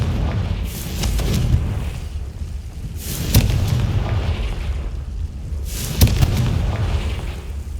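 Confringo spell blasts in Hogwarts Legacy: three sharp, booming explosions spaced a few seconds apart, each with a bright crack and rumbling tail over a low ambient bed.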